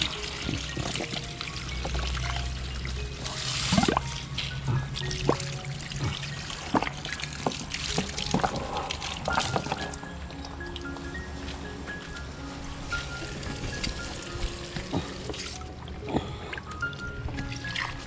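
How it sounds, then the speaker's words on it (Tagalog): Water runs steadily from a hose into a pig pen, a continuous pouring and trickling splash over about eighteen seconds, with faint background noises. "lagyan natin siya ng tubig niya guys saksak ko na lang tong hose"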